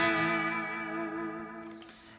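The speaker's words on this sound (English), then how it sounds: "I have a lot of distortion going on, but it rolls up nicely." An 80s Charvel electric guitar rings out a sustained, thick distorted chord with delay, fading slowly over about two seconds, loud and alone with a small pick or string noise near the end.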